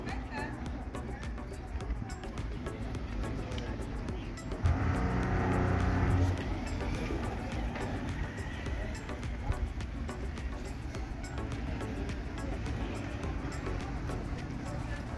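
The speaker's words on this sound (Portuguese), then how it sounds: "essa rua principal que está subindo e descendo o carro aí" Traffic moves up and down a main street in Jacumã, Conde, Paraíba. One car passes close by for a couple of seconds midway through, while a person talks and street noise continues.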